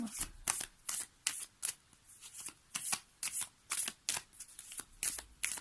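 Oracle cards being shuffled by hand, a close series of crisp riffling bursts repeating in a steady rhythm, about a dozen short flurries with brief pauses between them.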